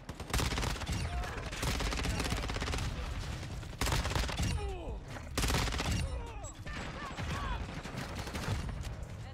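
Rapid gunfire bursts in the Modern Warfare 2 video game, dense repeated shots in several long volleys with short gaps, loud and continuous, with game sound effects mixed in.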